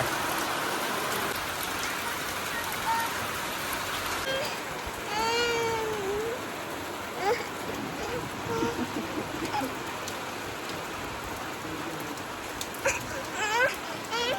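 Steady rain hisses throughout, close and even, while a cat meows several times nearby.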